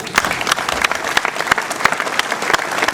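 Applause from an audience at a mayor's New Year's greeting ceremony in Ouistreham, with dense, steady clapping and a few sharper individual claps standing out across the whole stretch.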